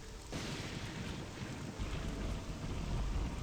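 Rain weather in the video game Morrowind, a steady wash of falling rain with a low rumbling, windy undertone that swells slightly, continuous and moderately quiet with no speech over it.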